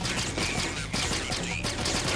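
Dense, continuous gunfire from Metal Gear Solid 2, sustained bursts of shots with no break, loud and close throughout.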